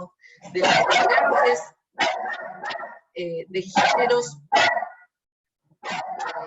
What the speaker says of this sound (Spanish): tengo un perro que es un poco chillón.